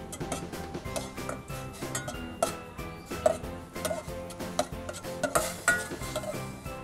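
Ground pork being stirred and spread in a hot pan with a ladle, giving a steady run of close scraping, clinking metal taps and soft sizzle with no talking.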